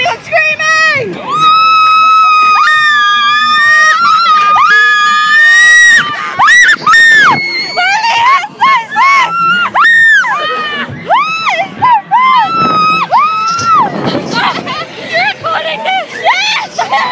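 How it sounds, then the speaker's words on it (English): Riders on a fairground ride scream loudly and continuously, many high voices rising and falling together in near, overlapping shrieks and whoops. "I love it when everyone's screaming!"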